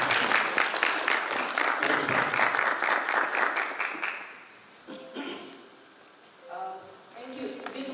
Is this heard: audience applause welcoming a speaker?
yes